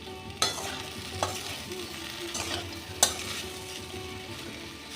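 Cauliflower and potato pieces are stir-fried with spices in a pan, a steady sizzling hiss punctuated by several distinct spatula knocks and scrapes at irregular intervals, close and without speech.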